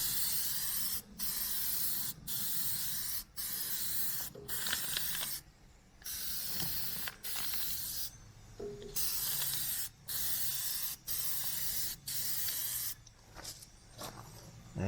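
Aerosol spray laying a second coat onto a car headlight: repeated bursts of close hissing, each about a second long, separated by brief silent gaps in a steady rhythm.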